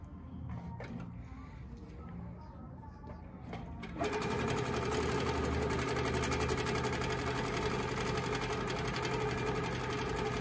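A Handi Quilter Capri longarm quilting machine starts stitching in manual mode after basting, its steady, fast mechanical whir kicking in abruptly a few seconds in and running evenly and close, with faint sounds before it starts.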